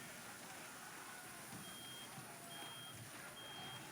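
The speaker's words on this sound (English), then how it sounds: "Some kind of alarm?" Repeating electronic alarm beeps sounding in a video game, faint evenly spaced tones over a constant rumbling machine-like background.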